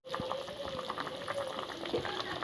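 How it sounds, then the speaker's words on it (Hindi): Konkani potato saalan, a potato curry, bubbles in a pot at a steady gentle boil, a continuous close burble of popping bubbles. "ये देखिए, सालन में अच्छे से उबाल आ गया है"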